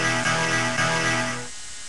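A cheap fake guitar played dry and unprocessed: a single loud, sustained strummed chord with a buzzy, harmonically rich tone that rings for about a second and a half, then cuts away.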